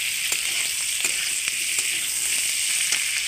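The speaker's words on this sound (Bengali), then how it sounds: "তার জন্য আমি পেঁয়াজ আর আলুটা একসঙ্গে ভাজছি।" Potatoes and onions fry together in a pan with liver, a dense, bright sizzle running continuously with faint clicks of stirring scattered through.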